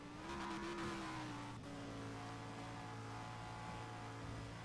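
Audi R8 LMS Ultra race car in the Need for Speed World game, racing a Carrera GT: a steady, loud engine drone holding pitch with a slight rise and a brief shift, running without pause and no talk.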